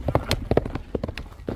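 A horse gallops close by, its hooves striking in quick, uneven clip-clop beats, with a burst of rapid thuds toward the end.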